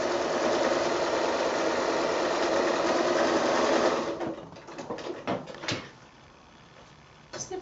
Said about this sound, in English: So this is a fairly open zigzag.